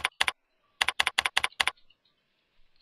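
Crisp, close keystrokes on a computer keyboard while code is entered: two quick taps, a short pause, then a rapid run of six more, followed by faint low clicks and quiet.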